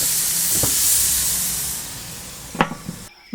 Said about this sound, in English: On go the chops, and they need to cook for about 4 to 5 minutes each